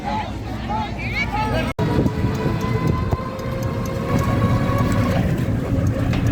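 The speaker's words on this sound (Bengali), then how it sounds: "তাই তো এই হলো আমাদের ট্রেন চলো" A local passenger train rumbles and rattles steadily from inside a carriage, with people talking and a general hubbub over the running noise.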